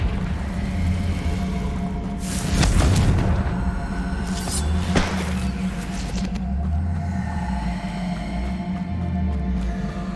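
Heavy booming blasts from the Confringo fire spell in the Hogwarts Legacy game, two loud explosive bursts over a steady low rumble of game ambience and music.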